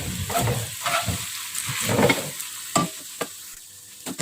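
Johor laksa ingredients are stirred in a hot pan, with a spoon scraping and clinking irregularly over a steady sizzle of frying, close up and without talk.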